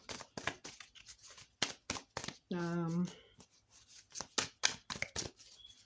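Several crisp, papery riffling bursts of glossy, slippery tarot cards being shuffled, close up, with a brief hum in the middle and soft handling noises between.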